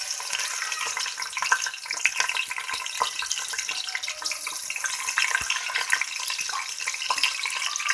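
Onions fry in hot oil with whole garam masala for aloo matar pulao, a steady crackling sizzle with scattered pops and light stirring, moderately quiet and with no voices.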